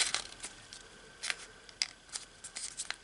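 Paper being creased and folded into an origami bowtie, a series of short crisp rustles and snaps close up, spaced irregularly against quiet.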